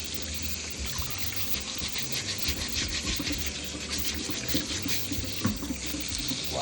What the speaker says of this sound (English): We're going now and wash off the carrot.